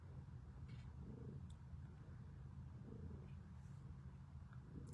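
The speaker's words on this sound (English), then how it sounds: "Still purring." A sickly cat rescued from winter cold purrs softly and steadily up close, a low continuous rumble, faint and alone.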